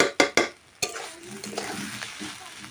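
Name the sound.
soybean curry being stirred and fried in a pan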